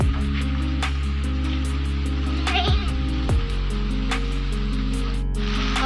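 A young goat kid bleats several times in a village farmyard in Sikkim at evening chore time. The wavering, fairly close cries sit over a steady electrical hum, with no talking.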